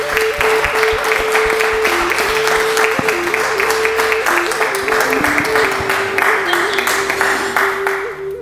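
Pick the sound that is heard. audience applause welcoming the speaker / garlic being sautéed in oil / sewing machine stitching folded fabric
audience applause welcoming the speaker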